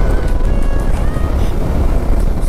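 A Bajaj Dominar 400 motorcycle riding along a forested mountain road near Kurseong, Darjeeling, its engine a steady close rumble mixed with strong wind rush from travel, with no talk.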